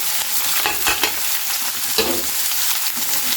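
Chopped onions frying in a pan with dried red chillies, a steady close hiss of sizzling oil broken by stirring clatter and scraping, no voices.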